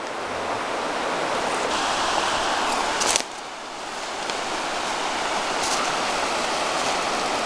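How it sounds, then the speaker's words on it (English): A river flows in a steady, loud broadband rush close by, briefly interrupted by a sharp knock and dip around the middle before resuming. "We made it to the river."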